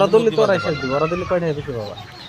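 Chickens on a poultry farm of about 500 birds cluck and call in a close, busy overlapping chatter that runs continuously throughout.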